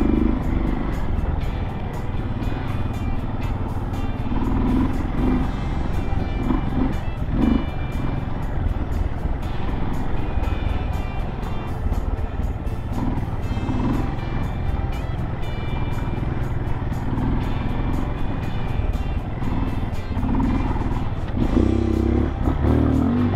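A cold dirt bike engine revving while riding through dry, loose sand, a steady loud drone that rises and falls with throttle blips and clattering.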